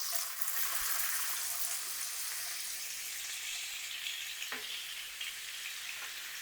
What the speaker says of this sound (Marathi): आता बटर घालून घ्यायचं आहे याच्यामध्ये.